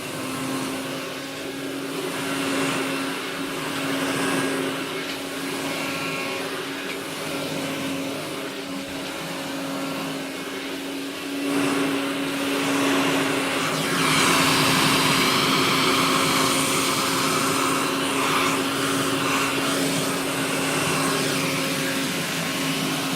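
A Hoover Dustette 2614 handheld vacuum cleaner, freshly restored and reassembled, runs continuously with a steady motor whine and airy roar, rising a little in intensity partway through, close and without talk.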